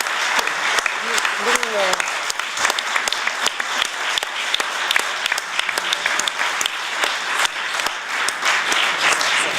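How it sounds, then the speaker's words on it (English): Spontaneous applause from attendees at a board meeting, steady crisp clapping throughout with individual sharp claps standing out, and a brief voice heard early on. "I apologize for not recognizing the spontaneous applause for that"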